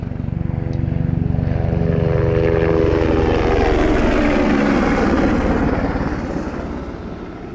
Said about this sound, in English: That's the official flyover.